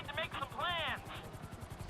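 Helicopter in Grand Theft Auto V hovering steadily, its rotor producing a continuous rhythmic low chop throughout, with a voice speaking over it in the first second.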